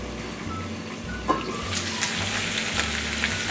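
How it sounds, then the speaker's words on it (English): Potatoes fry steadily in a covered pan, a constant close sizzle with faint bubbling and a few soft clicks, and no voices are present. "Okay, our taters have been cooking for about a total of 10 minutes now."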